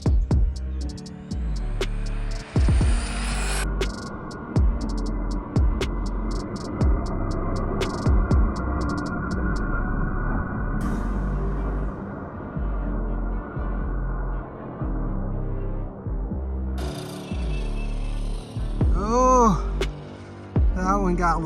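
Dual-motor Super Shredder RC car running on 12S power, a loud continuous motor whine and drivetrain roar that surges and fades with throttle passes, including a sharp rising-falling pitch sweep near the end.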